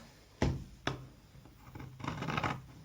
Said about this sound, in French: il faut avoir des bons ciseaux, hein, parce que sinon, c'est compliqué.